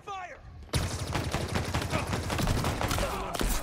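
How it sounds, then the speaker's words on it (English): Rapid gunfire in Halo Infinite arena multiplayer, a dense burst of overlapping shots that erupts abruptly and continues loudly as sustained fire, following a brief voice at the start. "Taking fire!"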